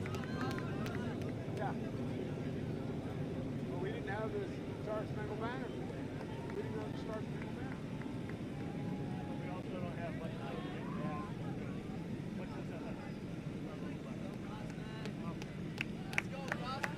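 Aircraft flyover above a high school cross-country race, a low continuous engine drone spread across the whole stretch under crowd noise and voices.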